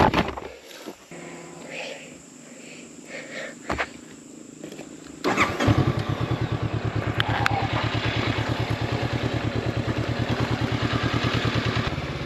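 A motorcycle engine catches after some faint fumbling and clatter, then settles into a close, loud, steady rhythmic idle that runs on to the end.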